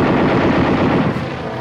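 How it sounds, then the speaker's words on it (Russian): Machine-gun fire crackles in rapid, dense bursts during an air battle in a radio drama about Sikorsky's bombers, loud and continuous before easing off slightly at the end. "Снова эти толчки и выстрелы!"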